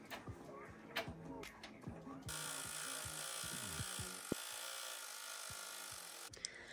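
A home embroidery machine stitching a face in black thread over glitter HTV, a steady buzzing whir with rapid rhythmic needle clatter, close and fairly quiet, starting after a few light handling knocks.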